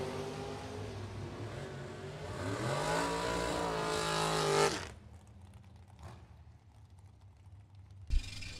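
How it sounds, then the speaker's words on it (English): A dragster launches and tears down a bracket drag strip at a national event, a loud rising engine roar that climbs in pitch for several seconds and then cuts away, leaving fainter track ambience and a sharp thump. "Joe Kerner, the KTO Solutions, sponsored dragster from Coon Rapids, Minnesota"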